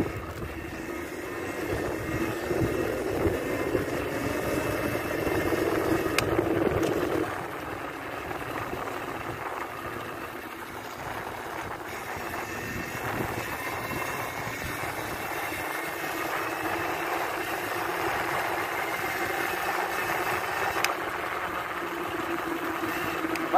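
Electric scooter ridden along a road while the rider holds a phone: a continuous motor whine with rushing wind and road noise, moderately loud and steady, with no voices.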